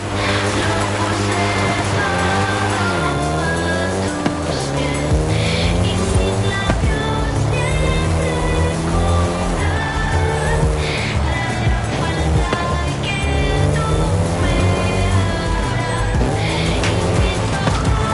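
A Volkswagen Golf GTI engine in Forza Horizon 5 revs up and down through gear changes. It sounds loud and close throughout, with tire noise and a steady wash of background sound.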